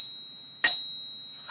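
A single bright bell ding rings out as a subscribe reminder in a Scratch 3.0 tutorial, one clear metallic strike with a sustained ringing tone that fades slowly, standing alone without speech.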